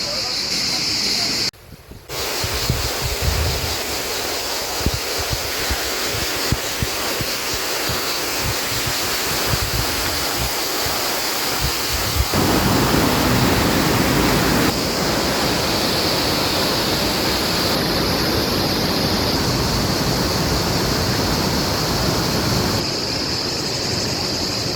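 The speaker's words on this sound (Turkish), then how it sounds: "Şelalenin üst tarafındayız." Galgamaç waterfall roars from above its crest on a hiking trail: a loud, unbroken rush of falling water that fills the whole scene, steady from start to finish.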